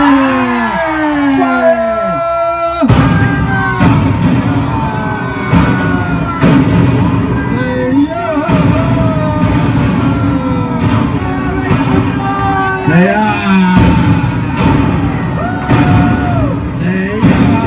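A crowd of passengers on a pirate-ship excursion boat shouts, whoops and cheers in repeated rising bursts, with loud overlapping voices and occasional bangs close by.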